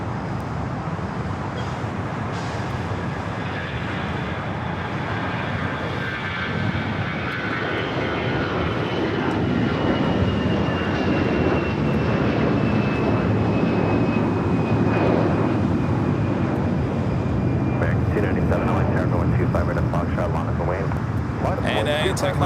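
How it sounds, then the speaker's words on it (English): An American Airlines airliner takes off from the south side of Los Angeles airport, its engines a loud, steady jet roar that holds for the whole stretch, with a faint rising whine running through it. "Next takeoff here on the south side, American Airlines flight 900"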